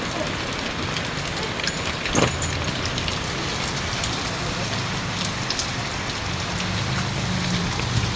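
Heavy rain falls outdoors in a dense, steady roar that stays constant throughout, broken only by a faint brief knock near the middle. No one speaks.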